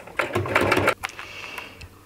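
A sewing machine runs a straight stitch at 2.5 mm length through Tetra Pak carton material with a denim needle. A short, fast mechanical burst lasts under a second, then stops, leaving quiet room sound with faint clicks.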